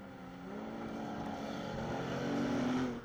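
Stock cars race on a New Zealand track, engines droning and rising steadily as they run down the back straight, a moderately distant continuous roar that swells toward the end.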